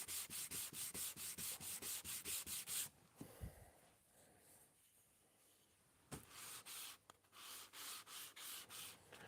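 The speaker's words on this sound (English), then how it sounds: "I'll do a little bit more sanding with that a little bit later" Rhythmic back-and-forth sanding of wood, loud and close, pausing in the middle with quieter handling sounds before the strokes resume.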